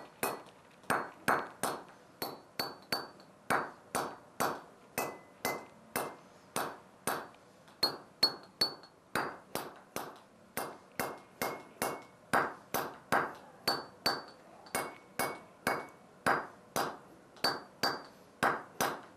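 Steady rhythmic hammer strikes on steel feather wedges set in a 3/8 inch drilled hole in stone, about two ringing, metallic blows per second, close and clear, repeating evenly with no talk.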